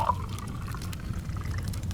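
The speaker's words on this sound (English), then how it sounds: "Let me pour you a drink" A drink poured beside a fire: a close, steady stream of liquid running into a glass for about two seconds, continuous and fairly loud with no talking.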